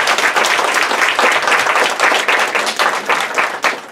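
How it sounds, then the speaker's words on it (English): A breakfast crowd gives a sustained round of applause, loud and close, with dense overlapping claps holding steady for several seconds and no talking. "Let's give him another round of applause."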